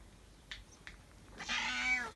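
A cat meows several times: two brief faint calls first, then a long, loud, drawn-out meow near the end, close by with no talking.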